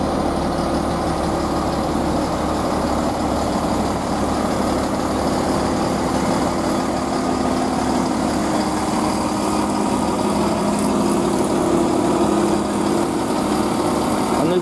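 GWR Class 166 diesel multiple unit 166202 idles at Gloucester before departure, its engine giving a steady, loud, rumbling drone that holds for the whole stretch.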